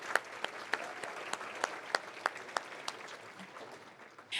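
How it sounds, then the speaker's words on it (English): Audience applause at an evening peace awards ceremony, a steady wash of many hands clapping with a few sharper individual claps standing out, fairly distant and moderate in level, with no talk over it. "Let's do a round of applause before they come."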